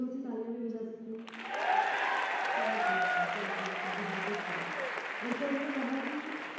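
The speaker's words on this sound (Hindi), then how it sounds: "क्या हम लोग थोड़ी सी तालियां भी बजा सकते हैं?" Audience at a motivational talk breaks into applause after a speaker's brief words, a broad even wash of clapping that swells and holds for several seconds with some crowd murmur beneath.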